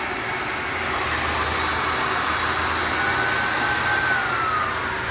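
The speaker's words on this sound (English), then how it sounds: "Then we have a vacuum on top of the machine that pulls freshly dried material out." A vacuum loader on top of an industrial material dryer runs with a loud, steady whooshing drone and a faint whine rising and falling partway through, with no speech.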